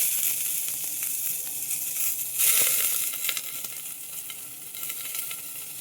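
Curry leaves crackle into hot tempering oil, a steady close sizzle with one sharper burst of spitting partway through, then settling into an even fry with light stirring.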